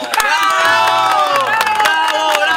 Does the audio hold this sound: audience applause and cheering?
yes